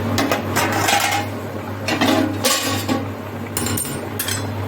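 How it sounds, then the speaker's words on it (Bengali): A metal lid lifted off a hot cooking pot of Gobindobhog rice pilaf, with several sharp clinks and clatters of metal on metal at irregular intervals, close and fairly loud. "এবার ঢাকনাটা আমি খুলি।"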